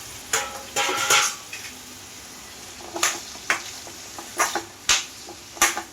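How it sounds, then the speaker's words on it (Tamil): Chopped vegetables sautéed with tomato and onion over a slow flame for sambar: a soft sizzle under repeated sharp spoon scrapes and clinks against the pan, in uneven bursts. "ஸ்லோ ஃப்ளேமில் வச்சு ஒரு அஞ்சு நிமிஷம் நல்லா வதக்கிக்கலாம்"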